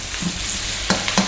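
Onion dropped into a hot oiled pan after ginger for chicken curry, a soft steady sizzle with a couple of sharp stirring scrapes near the end, close and brief.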